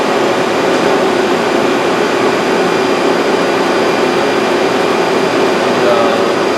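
A Citizen M20 Type III CNC Swiss lathe runs its spindles, giving a loud, steady whirring drone with a faint high whine on top. The sound holds constant with no pauses, close to the machine.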